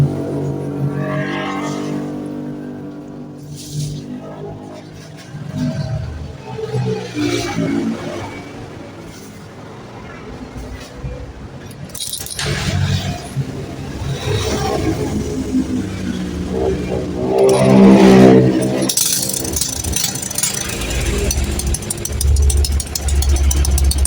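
A Honda Karisma / Supra X motorcycle engine is started and left idling during a repair for sudden stalling, building from quieter cranking noise into a louder, steady close-up engine hum with some mechanical knocking and clatter.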